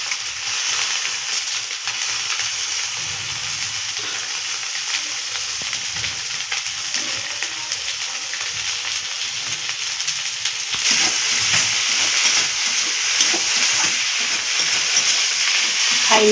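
Fish frying in a pan, a steady loud sizzle and hiss that swells slightly louder partway through, with no talking.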